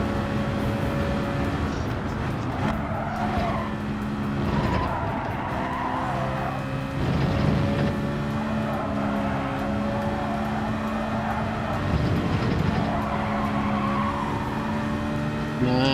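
Tires squeal and skid under hard, late braking in the Gran Turismo 7 racing game, a sustained near screech over engine drone with no talk.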